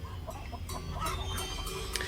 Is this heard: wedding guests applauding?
no